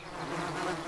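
Bees buzz steadily around a beehive kept as a hobby-turned-business, a dense, continuous hum close up with no talk over it.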